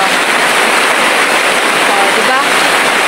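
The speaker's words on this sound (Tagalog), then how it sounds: "Ang lakas ng ulan, grabe" Heavy typhoon rain pours down on a farm in Bicol, a loud, unbroken hiss of dense downpour filling the whole moment without letting up.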